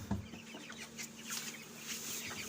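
Young broiler chicks at a feeder make soft, overlapping clucks and cheeps, faint and close together, against a quiet low hum.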